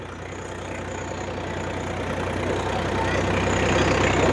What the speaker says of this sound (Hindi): आवाज चेंज हो चुकी है ट्रैक्टर की